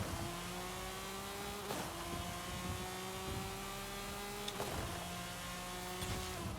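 Engine of a drag-tuned car in Forza Horizon 5 held around 4,900 RPM and launched down a half-mile strip, a steady loud synthetic roar with rising harmonic sweeps and sharp gear-shift breaks near 1.7 and 4.5 seconds.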